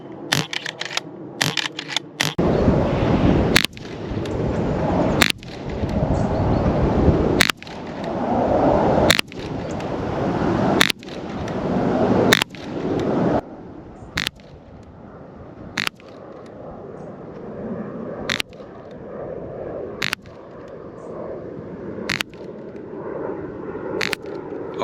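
A Reximex Lieva .22 air rifle firing shot after shot through a magazine, sharp cracks spaced about every one to two seconds, each followed by cocking and mechanical clicks.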